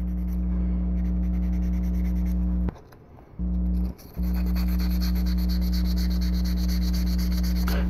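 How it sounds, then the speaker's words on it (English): Wet sanding of primer off a mold line on a Jagd Doga model kit, a steady close rubbing scratch running continuously with two short pauses partway through, over a constant low hum. "So we're going to sand that out."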